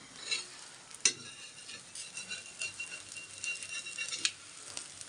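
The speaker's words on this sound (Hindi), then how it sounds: "तो मित्रों ये चावल की रोटी है और ये बन रही है प्योर घी में" Rice roti fries in pure ghee on a griddle, a soft, faint sizzle and crackle with occasional sharp metallic taps of a utensil.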